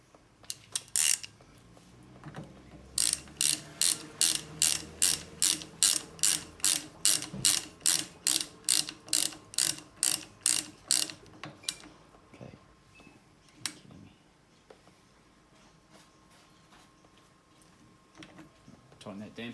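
Ratchet on a DVO Diamond mountain bike fork damper being tightened, a long run of sharp, evenly spaced clicks close up, followed by quieter handling noises and faint talk.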